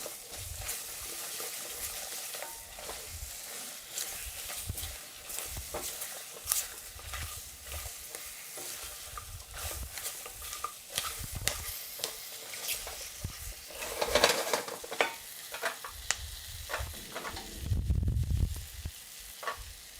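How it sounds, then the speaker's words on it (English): Onions sizzling in a pan for a bunny chow curry, a steady crackling fry with occasional stirring clatter, close and fairly quiet. "So I'm just gonna do the onions for like 2 or 3 minutes maybe"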